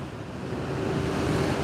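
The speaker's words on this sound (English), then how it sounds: "this is just massive amounts of water flowing through here" Massive amounts of floodwater roar steadily through Fort Loudoun Dam during a flood, a dense, continuous rushing wash close by with no pauses or voices.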